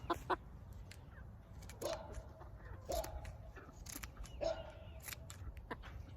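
A chicken held for wing feather trimming gives several short, scattered clucks and squawks at close range over a quiet background, with a few soft handling noises between them.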